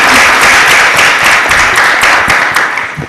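At a town council meeting, the chamber breaks into loud, steady applause, a continuous patter of many hands that tapers slightly toward the end.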